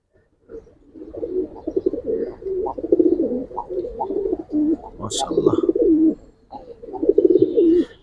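Giribaz pigeons coo close by in repeated, throaty, rolling phrases that come in bursts with short pauses between them, while a brief higher chirp cuts in near the middle.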